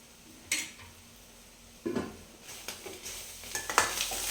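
A spoon stirs ginger garlic paste into a beaten egg mixture in a pan, with a few sharp scrapes and clinks, sparse at first and then more frequent, against a faint quiet background.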